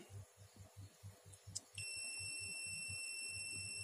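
Multimeter continuity buzzer sounding while a transformer is tested, a faint pulsing throb followed by a steady high-pitched electronic tone that starts abruptly and holds.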